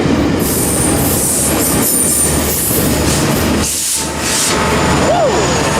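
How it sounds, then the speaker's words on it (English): A Metrolink commuter train rolls past nearby at a rail line in Fullerton, steady and loud with wheel squeal and rumble throughout, and a brief rising whistle-like squeal near the end. "Nice Metrolink, there goes 7."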